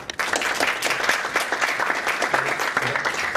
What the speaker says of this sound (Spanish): Con un fuerte aplauso lo recibimos a Fernando Cabrera y a Gonzalo Ordiosola